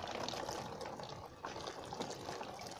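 Plain water is poured over a car wheel rim in a close, continuous splashing gush that lasts about three seconds without pause.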